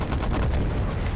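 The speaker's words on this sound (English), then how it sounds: "We've got the machine gun back" Machine gun in a zombie video game fires a continuous rapid burst, loud and close, lasting the whole short moment with no talk.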